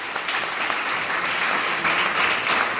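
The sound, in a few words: loud applause from audience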